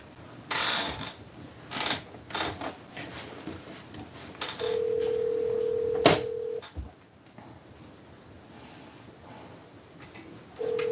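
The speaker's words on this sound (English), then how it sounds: "I can still hear the phone ringing upstairs." A telephone rings upstairs with a muffled, distant electronic tone, two long ring bursts separated by quiet, while clunky household knocks and movement sound nearby.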